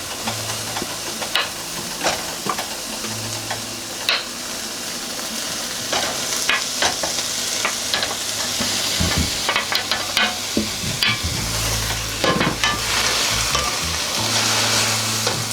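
Peppers fry in a pan, a steady soft sizzle and hiss broken by repeated scraping and clattering stirs, some louder knocks near the end.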